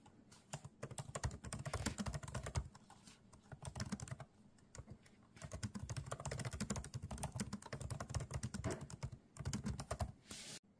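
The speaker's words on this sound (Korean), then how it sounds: "타건감의 비교를 위해서 한번 키보드를 쳐보도록 하겠습니다" Steady bursts of typing on a laptop keyboard, either a Galaxy Book4 Pro or a MacBook Pro, with crisp clustered key clicks and short pauses, close and fairly loud, no talking.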